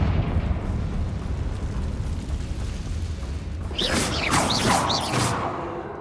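A Confringo fire spell bursts in Hogwarts Legacy, a loud fiery blast landing near the end over a steady rumbling game backdrop, with a few bright whooshing crackles trailing it.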